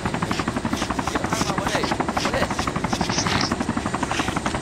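A helicopter in the video game ArmA II drones steadily with a loud, continuous rotor chop and engine buzz throughout, while a voice talks over it.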